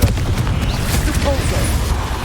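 Confringo fire spell blasting in the Hogwarts Legacy video game, a continuous loud rumbling roar of explosions that fills the whole stretch, with a voice briefly audible amid the blasts.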